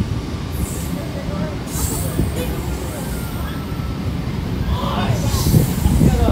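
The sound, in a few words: local train running into a railway station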